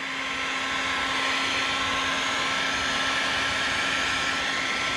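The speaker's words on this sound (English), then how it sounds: "get my heat gun." A heat gun blows hot air in a steady, even whoosh with a faint high whine, running close and continuously while dechroming trim on a Volkswagen Tiguan R.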